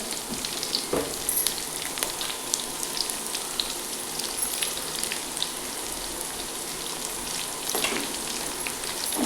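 Small onions with a pinch of salt sizzle and fry steadily in a pan, a continuous crackling hiss with occasional brief stirring scrapes and no talking.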